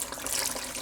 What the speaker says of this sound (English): 1 cup of water into this